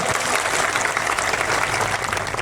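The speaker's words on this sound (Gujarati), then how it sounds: "પોલીસ કર્મીઓ માટે જોરદાર તાળીઓ પાડી લો" A rally crowd applauding police officers at a Save Aravalli meeting, dense, loud clapping from many hands sustained through the whole moment.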